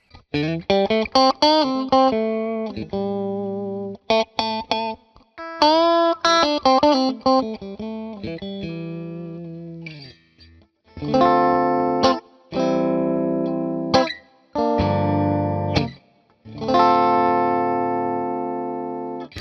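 Electric guitar with the middle and humbucker pickups blended, clean amp, playing a run of quick picked notes and riffs, then sustained ringing chords with short gaps between them, loud and alone.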